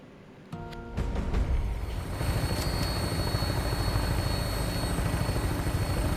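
A Vertibird aircraft in Fallout 76 spins up and lands, steady loud rotor and engine drone building after a few clicks and holding close and continuous throughout.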